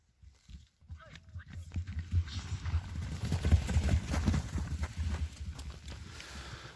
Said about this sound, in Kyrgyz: номер 5ке жылкыны тартып көргөзүп баштадык